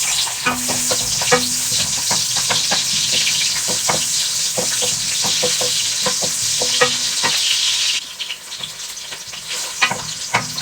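Onion sizzling in hot oil in a frying pan, a loud continuous crackle with repeated stirring scrapes throughout, easing slightly near the end.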